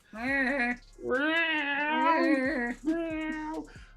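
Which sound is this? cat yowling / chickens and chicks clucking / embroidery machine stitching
cat yowling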